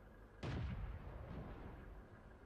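A tank gun firing in the video game World of Tanks: a single sharp boom early on that fades into a low rumbling tail, fairly faint overall.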